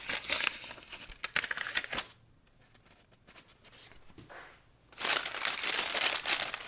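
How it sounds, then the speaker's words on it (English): A printed tissue bag bearing G.I. Joe and Cobra logos crinkles as it is opened, loud papery rustling bursts, a quieter pause of faint handling, then a sustained burst of crinkling resumes. "Let's open the printed tissue bag."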